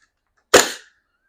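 A BB fires from an air-powered gun fitted with a TAPP Hybrid AAP-01 grip frame as the air is connected: a single sharp, loud pop that decays quickly into silence.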